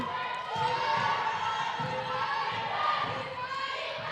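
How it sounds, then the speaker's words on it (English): A crowd roars steadily and a team bench cheers after an outside shot at a senior women's basketball game, with a commentator's voice running over the noise throughout. "That gives the Bandits bench something to cheer about"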